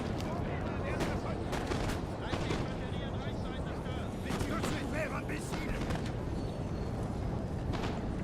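Musket volleys in a Napoleon Total War online battle: repeated sharp crackling gunshot bursts scattered over a dense, constant roar of battlefield noise, with distant shots layered throughout and no clear pauses.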